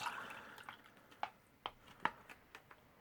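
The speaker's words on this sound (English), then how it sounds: "pour it into a glass." A drink from a Canadian IMP ration pack is poured into a glass, a brief faint trickle followed by a few quiet, separate drips and taps.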